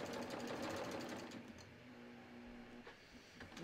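A home sewing machine stitches a tee shirt seam past the shoulder, a fast rhythmic mechanical whir running steadily, then easing off and stopping with a couple of soft clicks.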